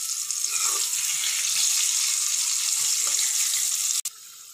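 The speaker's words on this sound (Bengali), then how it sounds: "আলুগুলোকে অল্প ফ্রাই করে নেব।" Diced medium potatoes fry in oil in a pan, giving a steady, loud hiss and crackle throughout that cuts off abruptly near the end before resuming more quietly.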